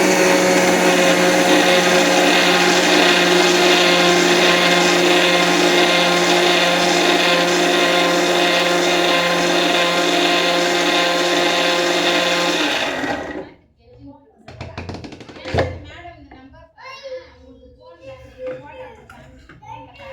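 Mixer grinder grinding almonds with milk for badam halwa, a loud steady high-pitched whirring that runs for about thirteen seconds and then stops abruptly, followed by a few clattering knocks and quieter handling noises.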